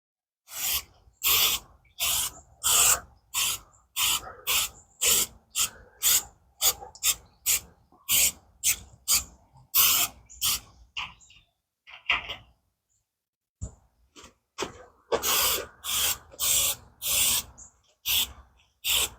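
Repeated short bursts of aerosol spray on a drum smoker lid, hissing in quick rhythmic pulses with a few brief pauses, close to the microphone.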